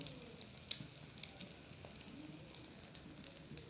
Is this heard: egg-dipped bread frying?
yes